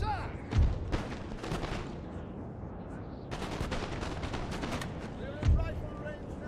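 Musket volleys and cannon blasts from a Napoleon: Total War battle, with two heavy booms and dense crackling bursts of gunfire in between, loud and mid-distance, mixed with game voices.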